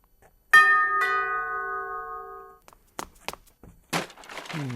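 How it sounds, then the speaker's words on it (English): A two-tone doorbell chime rings once and its bright tones fade slowly, followed by a few sharp knocks and clatters. "I'm going to ring the doorbell"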